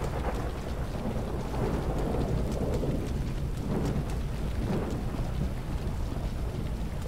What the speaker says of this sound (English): But look at the lightning, look at the thunder.